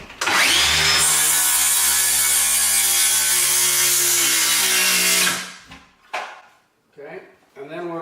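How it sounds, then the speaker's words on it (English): A skill saw plunge-cuts through wall sheathing with a loud, sustained whine lasting about five seconds, then winds down; a person then talks briefly over the quieter aftermath. "I could plunge cut it with a skill saw and finish with the Sawzall"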